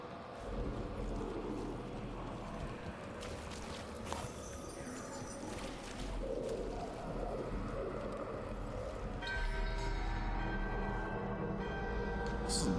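A bell rings during a ritual in the video game Dragon Age: Veilguard, its sustained metallic tones rising out of a dense, busy game soundscape and swelling toward the end.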